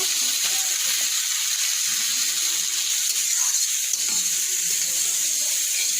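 Vegetables and egg for chow mein sizzle steadily in a hot oiled pan, a continuous hissing fry with no break throughout.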